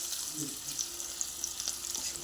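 Turmeric drops into already hot oil for a tempering, a soft, steady sizzle that stays fairly faint and brief with no talk.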